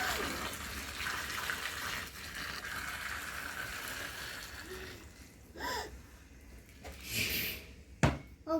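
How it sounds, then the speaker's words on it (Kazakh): Boiling water poured from a kettle over scored tomatoes in a bowl, a soft steady stream of liquid at moderate distance, followed by a few clunks and knocks near the end. "Ыстық қайнаған су құйып қоямын, чтобы қабығы оңай алыну үшін."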